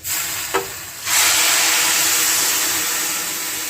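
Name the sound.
hot water slowly poured into frying dalia (broken wheat)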